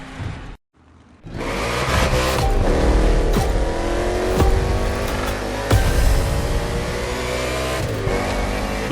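NASCAR stock cars race through an urban street circuit in Hawaii in The Crew Motorfest, engines roaring loud and steady after a brief silent gap, with revving surges and passing cars.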